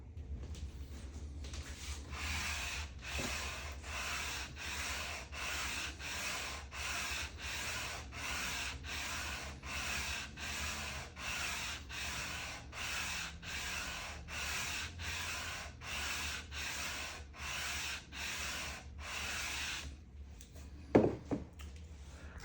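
Guitar fretboard on an Ibanez Artist being sanded to a 10-inch radius with a sanding block, a steady close rhythm of about twenty back-and-forth gritty strokes, then a few clunks as the work stops.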